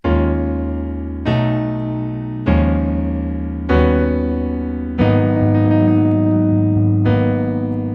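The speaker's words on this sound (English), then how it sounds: "The outro is only 5 chords" Piano plays the five-chord outro, each full chord struck loudly and left to ring for about a second before the next, heard alone without voices.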